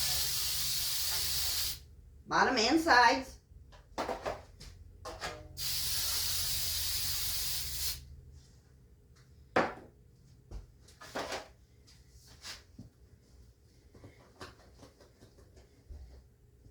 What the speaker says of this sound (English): We're going to spray them down with this Baker's Joy.